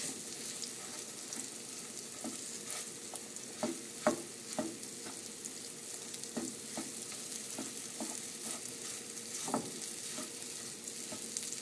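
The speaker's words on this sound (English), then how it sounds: "Now you're just going to mix it all around until the curry paste kind of dries up" Curry paste frying in oil while being stirred in a non-stick pan, a soft steady sizzle broken by scattered scraping clicks of the utensil, quiet and close.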